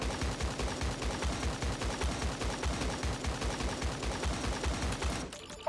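An SMG in Fortnite fires in a long, rapid, unbroken stream of loud, evenly spaced shots that cut off abruptly just before the end.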